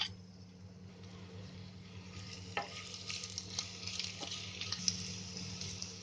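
Finely chopped ginger fries in oil in a home kitchen pan, a soft, steady sizzle broken by occasional stirring clicks and scrapes, with no voice over it.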